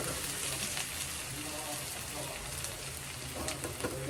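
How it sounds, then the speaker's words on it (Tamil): Sliced onions sauté in a pan for crab biryani, a steady soft sizzle and crackle running continuously at low level with faint stirring. "இதெல்லாம் செய்யறதுக்காக நம்ம வெங்காயம் வதக்கிட்டு இருக்கோம்"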